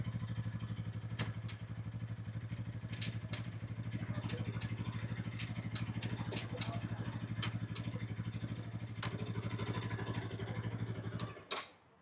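A Bajaj Pulsar NS 200 motorcycle engine idles steadily close by with a continuous low drone and occasional sharp clicks, then cuts off abruptly near the end.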